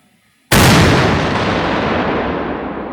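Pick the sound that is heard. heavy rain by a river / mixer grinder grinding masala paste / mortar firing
mortar firing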